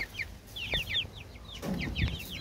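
Caged chicks chirp in a busy run of short, high peeps, several birds calling over one another at close range with a few soft clucks. Faint background noise sits underneath.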